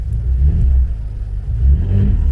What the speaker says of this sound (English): you can definitely hear the difference of the way the engine running